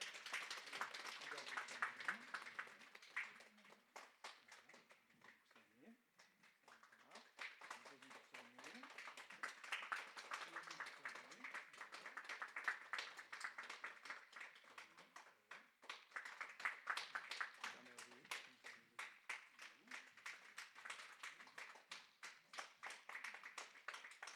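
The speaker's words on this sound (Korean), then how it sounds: "김용기 박수 맞아주시기 바랍니다." A church congregation at a Baptist church in Austin claps in steady, dense applause that rises and eases over about twenty seconds, while someone speaks over it.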